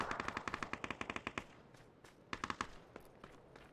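Automatic gunfire from a PUBG match brings down a drone: a long rapid volley of close, sharp shots, a brief pause, then a second, shorter burst and a few scattered rounds.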